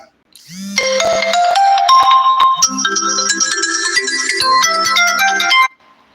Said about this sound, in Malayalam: കോൾ വന്നാണ്